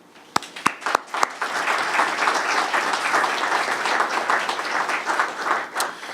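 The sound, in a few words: audience applause at press conference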